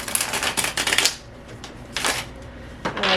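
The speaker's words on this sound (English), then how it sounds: "I'll start shuffling." Tarot cards being shuffled in quick riffling bursts, crisp and close, with short pauses between shuffles.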